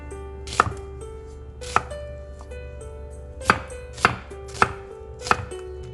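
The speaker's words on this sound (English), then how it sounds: "Chop half an organic onion." Half an organic onion is chopped with a knife on a cutting board: six sharp, close knocks at uneven intervals over a low steady hum, with no talking.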